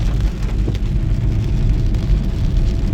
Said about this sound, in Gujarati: આ ટાઈપ વરસાદ ચાલુ થઈ ગયો છે.